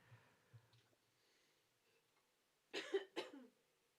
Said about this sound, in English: coughed in the background